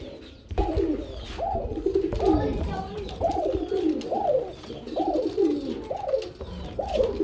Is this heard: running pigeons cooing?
yes